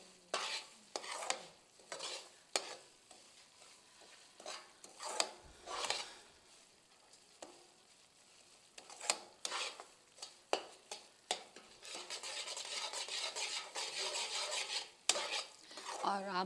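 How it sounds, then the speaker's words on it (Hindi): A spoon stirs semolina halwa as it roasts in a pan, giving soft, irregular scraping strokes with light clinks and quiet gaps between bursts, then a busier run of scraping near the end. "आप मुसलसल इसमें चमचा चलाते रहिए ताकि कहीं से ये डार्क और कहीं से लाइट ना रह जाए"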